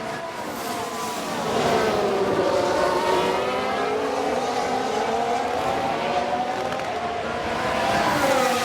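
Racing cars overtaking in the F1 Manager 22 video game, with an Aston Martin gaining a position; steady, loud, high-pitched engine whine with shifting revs runs throughout as the cars pass each other.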